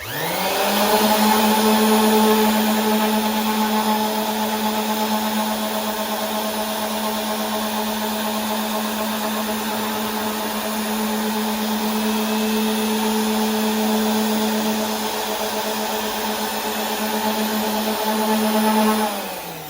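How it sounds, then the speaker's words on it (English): A Ryobi 380 W 125 mm random orbital sander working over a glued-up walnut and beech board, a steady close motor whine with a continuous abrasive hiss that spins up at the start and winds down at the end, with no talking. "Alright, I can't talk over the sander, so let me finish that sentence."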